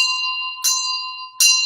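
A Buddhist ritual bell rung in Chöd practice strikes twice at an even pace, each bright, close metallic ring sustaining and shimmering into the next, with no talking.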